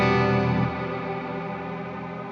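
Guitar pedal board chorus with the sway turned up, a slow warbling ring-out of sustained distorted tones that decays steadily after a louder opening, alone with no voice.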